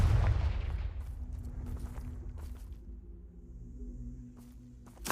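A Confringo fire spell from Hogwarts Legacy bursts loudly at the start, then trails into crackling, rumbling after-effects with a few sharp hits, with no voices.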